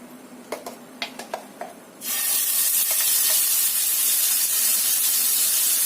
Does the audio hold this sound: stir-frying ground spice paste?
yes